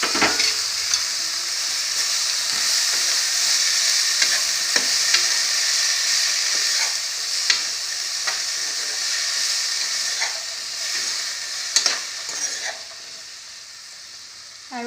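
Yardlong bean tips stir-fried in a pan, a steady loud sizzle and hiss running throughout with scattered clicks and scrapes of a spatula stirring, no talking.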